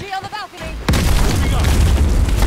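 A loud RPG explosion in the Call of Duty Black Ops Cold War campaign bursts in suddenly after brief speech, then a dense, sustained roar of blast and gunfire rumble fills the rest.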